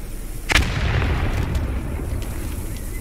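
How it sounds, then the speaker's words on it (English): A grenade blast in the military shooter Post Scriptum, one sharp loud explosion near the start, followed by a rumbling tail of reverberating noise that fades slowly. "Grenade out, no left room"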